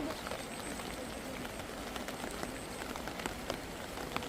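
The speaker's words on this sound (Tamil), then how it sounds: "வந்தோன்னே மழை பிடிச்சிக்கிச்சு" Steady rain falls on a farm with net shade structures and vegetable plots, a continuous dense patter with occasional sharper drops, close and even throughout.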